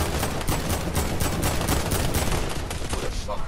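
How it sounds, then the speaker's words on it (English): Gunfire in a Fortnite match: dense, continuous volleys of rapid shots and automatic fire, loud and close, filling the whole stretch without pause. "They got shooting over here. They're shooting at Patrona."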